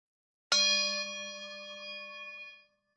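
A small bell struck once, ringing out cleanly and sustaining for about two seconds as it fades, heard alone and close.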